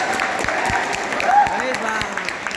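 Applause from a crowd at a prayer meeting held for Sushant Singh Rajput's birthday, steady clapping through the whole stretch with a voice speaking over it.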